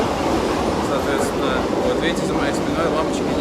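A subway train runs through the Pyongyang metro, considered the deepest in the world, a loud continuous rumble and hiss inside the carriage while a person talks over it.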